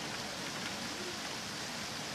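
Steady rain hisses down in a dense, even wash of noise, with no other sounds standing out.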